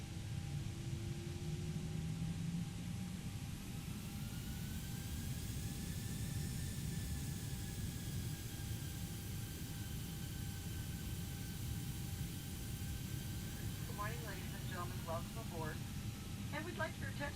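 Airbus A320 taxiing in a flight simulator game gives off a steady, faint engine hum and hiss with a sustained whine, as a voice talks quietly over it and a few short clicks sound near the end.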